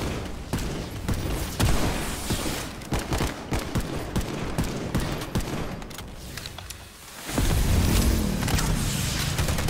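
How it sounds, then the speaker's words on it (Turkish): Rocket launcher fire in the Planetside Arena battle royale video game: a rapid run of loud, sharp bursts, a short lull, then a heavy, sustained rumbling blast, with no talking. "Vallahi roket launcher falan kullanıyoruz abi oyunda."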